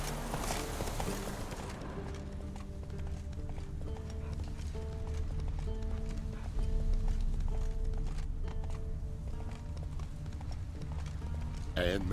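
Roach the horse galloping in The Witcher 3 video game, steady clip-clop hoofbeats under game music with talk over the top.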